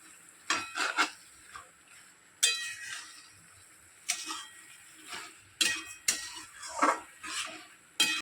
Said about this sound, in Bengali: এবারে আমি চিংড়ি মাছটা দিয়ে দিলাম, ভালো করে এটাকে আমি ভালো করে মিশিয়ে নেব।